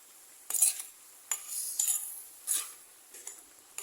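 Eggplant with turmeric powder being mixed in a pan, heard as a few light, bright scraping strokes of a spoon, separated by quiet gaps, close but soft.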